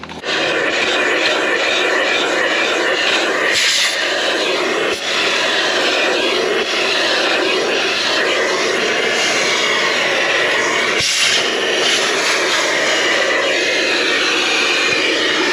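An Amazon Basics hoover vacuums the footwells of a car, giving a loud, steady whining roar with brief surges as the nozzle catches debris, running continuously throughout.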